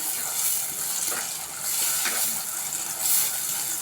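Garlic chutney sautéing in a pan makes a continuous broadband hiss with a few soft stirring scrapes, steady and close, with no voices.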